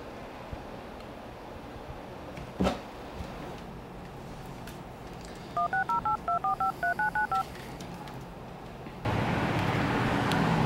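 A telephone is dialed by touch-tone, a quick run of about ten short paired beeps in a quiet room, with a brief bump before and a louder hiss of line noise after.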